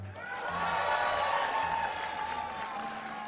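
Audience applause and cheering for Gnomish Inventor during a Hearthstone Arena stream, a steady, moderately loud spread of clapping and crowd noise with voices mixed in throughout.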